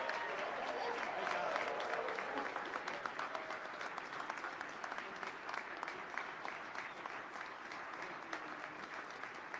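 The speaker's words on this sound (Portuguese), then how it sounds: "erguam-se para aplaudi-lo" Audience at the National Prayer Breakfast applauds President Trump, a dense, steady patter of many hands clapping throughout, fairly distant and uniform, with no voices standing out.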